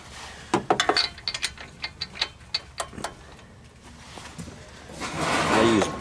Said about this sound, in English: I use this crescent wrench here.